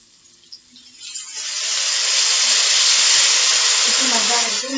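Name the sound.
water added to frying eggplant sizzling in pan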